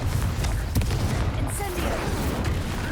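Confringo blasting spell cast in Hogwarts Legacy, a loud burst of rumbling booms and crackling blasts that fills the whole moment, with a dense low roar underneath and scattered sharp impacts.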